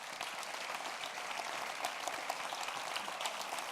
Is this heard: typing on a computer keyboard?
no